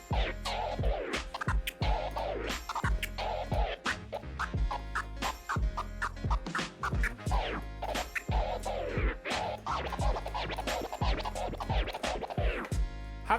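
Rapid, rhythmic record scratching over a thumping beat, with quick back-and-forth zips repeating loudly and steadily throughout.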